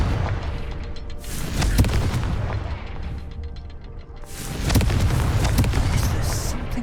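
Confringo fire spell exploding in Hogwarts Legacy inside Rockwoods Castle, two heavy booming blasts a few seconds apart, each with a sharp crack and rolling low rumble, loud and close, with no talking.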